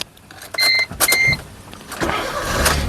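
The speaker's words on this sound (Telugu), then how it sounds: "ఈ కారు సింగిల్ సెల్ఫ్లో స్టార్ట్ అవుతుందా లేదా అన్న చూపిస్తున్నాను" Inside a 2015 Maruti Suzuki Ritz VXI, two short electronic chimes sound before the engine is started with a single crank and settles into a low, steady idle close by.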